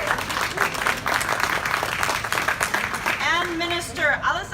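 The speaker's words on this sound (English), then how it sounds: "Round of applause." Welcome ceremony audience at Washington Dulles International Airport clapping in steady applause for a new ITA Airways service, continuous and fairly loud, with a voice speaking over the clapping near the end.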